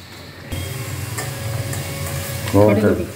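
Ivy gourd being sautéed in a pan with chili powder and salt, a steady close sizzle and frying hiss with stirring scrapes, swelling louder near the end as a brief voice rises over it.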